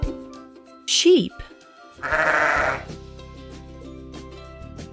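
Sheep bleating in a farm-animal guessing game: one loud, wavering bleat near the one-second mark, then a second broader bleat around two seconds, with a low steady hum beneath and no speech.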